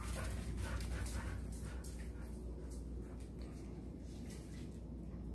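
A female dog vocalizes softly indoors while being coaxed to howl, faint whimpering and yipping sounds over a low steady background hum, with no talking.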